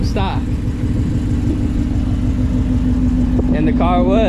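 Shelby GT350 running catless long tube headers in track mode, a loud close engine rumble that holds steady, then rises and wavers through revs toward the end.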